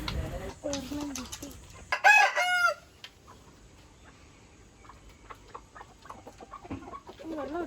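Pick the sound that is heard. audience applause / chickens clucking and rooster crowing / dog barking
chickens clucking and rooster crowing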